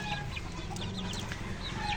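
Hens cluck steadily in a farmyard, with short bird chirps overhead and a constant low rumble of background noise.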